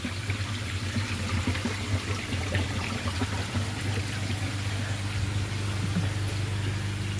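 Water pours steadily into a koi pond filter being topped up after cleaning, a continuous close trickle and splash over a low hum, no talk.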